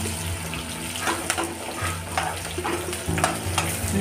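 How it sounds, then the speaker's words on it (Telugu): Chillies and fennel seeds frying in a pan for a paneer curry, a steady crackling sizzle with scattered spoon clicks and scrapes, close and moderately loud, with no one speaking. "చిల్లీస్ ఇవి మంచిగా వేగనిద్దాం."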